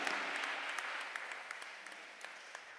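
Steady applause from a congregation at a Catholic Mass, a dense patter of many hands clapping continuously at moderate distance, no voices.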